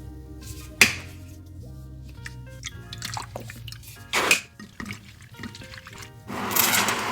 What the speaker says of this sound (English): you can go ahead and freshen up your laces. All you need is some fresh water and a little more cleaner